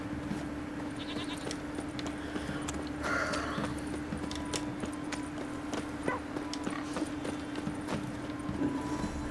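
Horse hooves clip-clop steadily in The Witcher 3: Wild Hunt. The rhythmic game sound sits under a constant hum with faint ambient tones and no talk.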